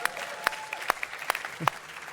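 A crowd applauds with scattered, sparse claps. Individual sharp hand claps stand out at irregular intervals over a low murmur of voices.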